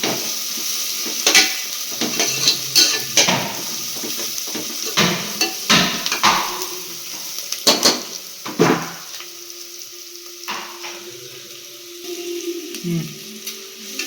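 Onions sauté in a pot for a one-pot lentil dinner, with a spoon scraping and clattering against the metal in irregular bursts over a low sizzle, close and without speech.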